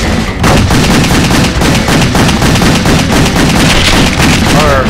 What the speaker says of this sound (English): shoot the goddamn hubcap!